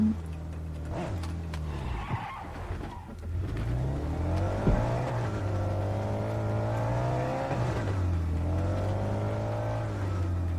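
A car engine revs and passes close by, rising and falling in pitch with a tire squeal partway through, loud and continuous with no talking.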